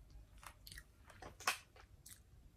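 Quiet crunchy bites and wet chewing of a large marshmallow, several close-up mouth sounds with one sharper bite in the middle, no talking.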